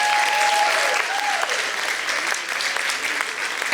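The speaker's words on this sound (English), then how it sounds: "Can we give a round of applause for our past grant recipients?" At an Impact100 NWF annual meeting, the audience gives a sustained round of clapping for past grant recipients, steady and full from start to finish with a brief tonal whistle near the start.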